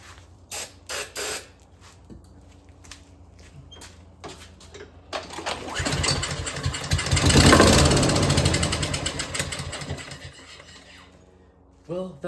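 A small engine on a rough compression test is cranked on starting fluid: a few mechanical clicks and pulls, then it catches and runs loudly for several seconds, revving up and dying back down, close by.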